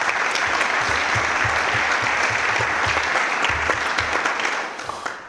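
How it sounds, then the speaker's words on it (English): A city council meeting crowd gives a warm round of applause for community volunteers, steady dense clapping for about five seconds that thins and fades at the end. "please give them a warm round of applause as well"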